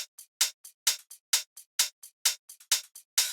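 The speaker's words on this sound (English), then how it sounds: "Then we have some hats" Crisp, bright hi-hat hits tick in a quick, steady syncopated pattern of a tech house beat, heard alone and fairly quiet.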